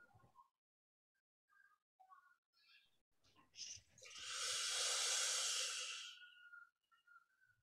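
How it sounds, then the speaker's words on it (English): Slow, drawn-out exhalation during a guided yoga breathing practice, a soft steady airy rush swelling then fading over a couple of seconds, close and clear, preceded and followed by faint small breathy sounds with no talking. "Slow exhalation."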